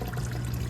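Coolant dribbles from a disconnected hose on a 2009-2016 BMW Z4 35i during water pump and thermostat removal, a close, continuous trickling splash.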